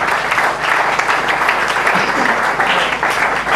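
A church congregation applauds loudly and steadily, a dense wash of clapping lasting the whole stretch, with faint voices beneath it.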